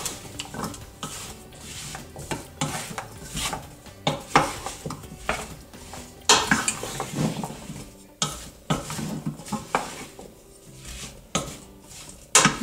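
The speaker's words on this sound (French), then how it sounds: "Je mets un peu de sauce soja. Je remue." A spoon stirs food in a cooking pot after soy sauce has gone in, giving repeated scraping and clinking strokes against the metal in a steady rhythm, close and alone with no talk.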